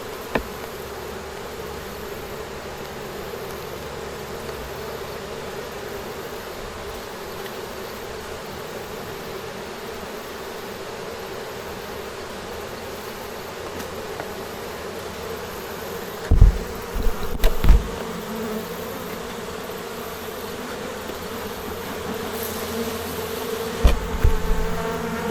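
Honey bees buzz steadily and densely around open hive boxes during a hive inspection, a continuous close swarm drone with a few brief louder knocks and handling bumps partway through.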